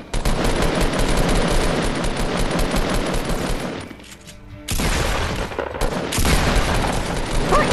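Dense, loud gunfire in the Fortnite video game, with continuous rapid bursts and a brief lull partway through before firing resumes in heavy volleys.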